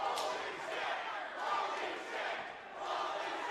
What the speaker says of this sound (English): This crowd is going bananas, Joe.